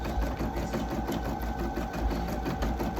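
A Brother Marvel embroidery machine stitches with a fast, even mechanical whir and a rapid pulsing rhythm that runs throughout, close and fairly loud.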